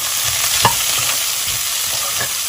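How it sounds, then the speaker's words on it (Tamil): Sliced large onions fry and sizzle in a pan for prawn biryani, with a steady hiss and a few scraping stirs of a utensil against the pan, and no speech. "இப்போது வெங்காயத்தை நல்லா இப்படி பிரித்து விட்டு போட்டுக்கலாம்."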